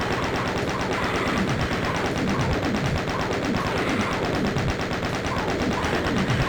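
Rapid, continuous gunfire from DOOM Zero on PS5, a relentless machine-gun-like stream of shots with no pauses, loud and dense across the whole stretch, with faint game noise beneath.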